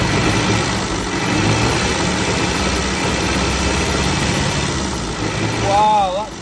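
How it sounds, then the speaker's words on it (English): A revived 1934 Austin Seven engine idles steadily and close by, with a constant loud chugging rumble throughout. A voice speaks briefly near the end. "Listen to that engine sound, absolutely lovely."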